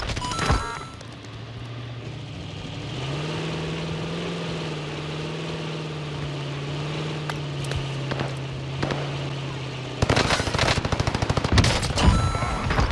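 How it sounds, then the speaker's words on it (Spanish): Gunfire in the video game Call of Duty Warzone Pacific. A few scattered shots ring out over a steady droning aircraft engine, then a close, loud burst of rapid automatic fire comes near the end. "¿Por qué me está disparando?"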